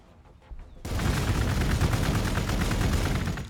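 Sustained gunfire in the strategy game Warhammer 40k: Gladius, a dense loud volley of rapid shots that bursts in suddenly after a quiet moment and continues steadily to the end.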